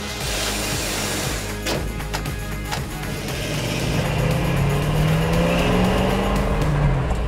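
Chevrolet Suburban fitted with new cylinder heads and a cam doing a short burnout, the loud engine roaring and revving steadily up close with tire squeal rising over about seven seconds.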